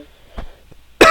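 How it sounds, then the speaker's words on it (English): A single cough from the narrator of a Mechwarrior Online gaming session, a faint throat sound early on and then a loud, close, harsh burst at the end with no talk. "sorry about the cough there."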